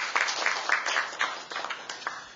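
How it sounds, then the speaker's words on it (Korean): Applause from a conference audience at the 2017 Jeju Forum in Korea: a fairly faint, steady patter of many hands clapping in a hall, with no talking. "큰 박수 부탁드립니다."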